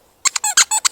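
A dog's squeaky toy squeezed in quick bursts, about six sharp, close squeaks in a row with short gaps, loud and clear with no talking over it.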